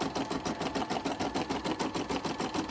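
A Brother SE400 embroidery machine stitches a design onto a paper doily, a fast, even mechanical rattle of needle strokes repeating closely and steadily with no pause.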